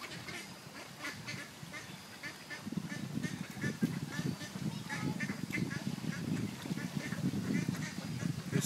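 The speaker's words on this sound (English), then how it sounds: "That's it. Feed those ducks." Many ducks quack and honk as they crowd in to be fed beside a lake, a busy layered chorus close by, with faint human voices mixed in.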